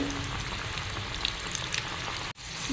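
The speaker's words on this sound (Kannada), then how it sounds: "ಗ್ಯಾಸ್ ಸ್ವಲ್ಪ ಸ್ಲೋ ಇಟ್ಕೊಳ್ಳಿ ಸ್ಲೋ ಇಟ್ಕೊಂಡು ಫ್ರೈ ಮಾಡ್ಕೊಳ್ಳಿ" Small jackfruit seed vadas frying in oil on a low flame, a close, steady crackling sizzle with faint pops, briefly cut off near the end.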